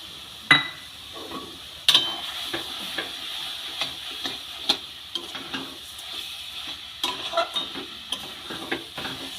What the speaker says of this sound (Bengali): চিনিটা দিয়ে আমটাকে খুব ভালো করে মেরে নেব